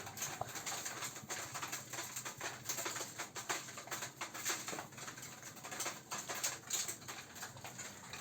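Pigeons in a pigeon house cage peck at feed, producing faint, rapid, irregular tapping that runs throughout along with soft background noise and a hint of cooing.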